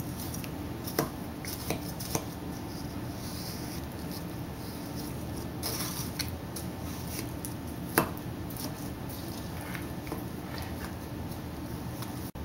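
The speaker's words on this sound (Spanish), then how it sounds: "Bata la mezcla." Cookie dough with vanilla being beaten in a bowl, a quiet steady scraping and tapping with a few sharper knocks of the utensil against the bowl, faint and close, with no talking.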